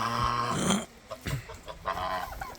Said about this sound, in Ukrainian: І 5 гусок і гусака купив великої сірої породи.